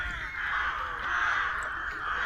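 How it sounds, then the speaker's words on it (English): Rooks caw continuously overhead, a dense, raucous chorus of harsh calls from a colony in the trees, somewhat distant, with no talking. "Can you hear the rooks? There's a rookery up there."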